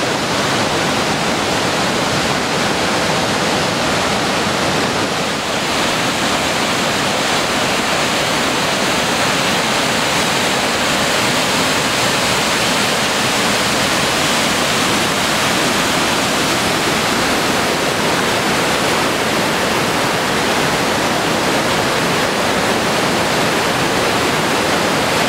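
Boulder River at flood stage near Big Timber, Montana, with spring mountain runoff rushing over the top of a structure, a steady, loud, close roar of churning water that continues unbroken throughout.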